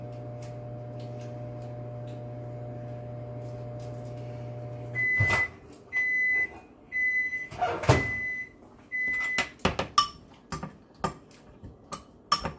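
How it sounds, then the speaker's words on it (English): A microwave oven hums steadily, then its door opens and a run of beeps and clicks follows, with clattering handling noises toward the end. "In the microwave for another 30 seconds."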